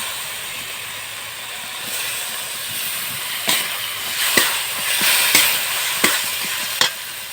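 Chopped tomatoes sizzle in a pan of small country potatoes, a steady loud frying hiss broken by several sharp clacks of a spoon stirring against the pan.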